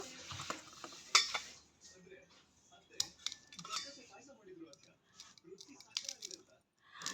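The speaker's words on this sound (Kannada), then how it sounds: "ಈಗ ಸೀಬೆಕಾಯನ್ನು ನಾವು ಕಟ್ ಮಾಡ್ಕೊಂಡು ತಿನ್ನೋಣ ನಾನು ಒಂದು ಕೈಯಲ್ಲೇ ಕಟ್ ಮಾಡ್ತಾ ನೋಡಬಹುದು ನೀವು" A knife cuts through a guava held in one hand, giving quiet scattered clicks, scrapes and soft crunches close by, with a person talking intermittently throughout.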